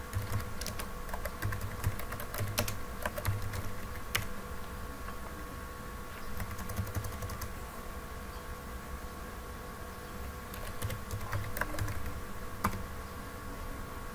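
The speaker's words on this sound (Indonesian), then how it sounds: "kemudian kita ketikkan perintah untuk membuat tabel yang baru" Fast, steady typing on a computer keyboard as a command is entered, dense close key clicks continuing throughout over a constant electrical hum.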